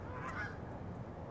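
Canada geese honking on a college campus, a short burst of honks against a faint, steady outdoor background, no talking.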